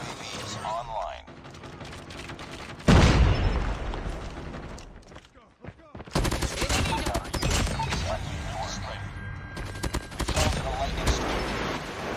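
Bursts of rapid gunfire and impact bangs fill a shooter video game, coming in dense stretches separated by brief lulls, loud and close, with a player's voice talking over parts of the action.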